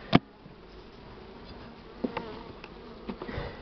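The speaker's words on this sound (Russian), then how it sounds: "Это пчелки заволновались" Agitated honeybees buzz around an opened hive frame during treatment against mites, a close, steady insect drone with a sharp knock at the start and a few faint clicks.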